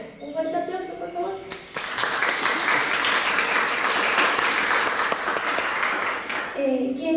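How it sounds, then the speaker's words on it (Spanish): Loud, sustained applause from an audience, steady clapping filling the room for several seconds, with a voice speaking briefly at the start and end. "Un fuerte aplauso, por favor."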